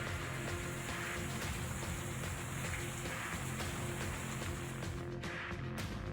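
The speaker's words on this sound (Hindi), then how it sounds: "मूसलाधार बारिश ने महाराष्ट्र की रफ्तार पर ब्रेक लगा दिया" Heavy torrential monsoon rain in Maharashtra pours down as a dense, unbroken roar, loud and steady throughout without any voices.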